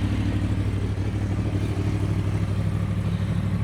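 A 2011 Yamaha R1 motorcycle engine running steadily at close range, a constant low idling drone with slight rhythmic pulsing and no voices.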